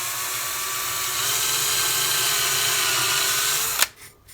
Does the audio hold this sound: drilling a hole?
yes